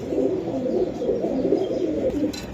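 A pair of red pigeons coos, the male calling the female toward a clay nesting pot, giving a close, continuous low throaty cooing that rolls on without pause and without speech.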